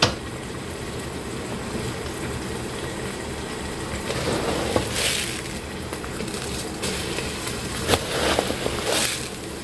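Rice frying in oil in a pot gives a steady sizzling crackle, with scraping and clinking as it is stirred and some louder bursts of activity partway through.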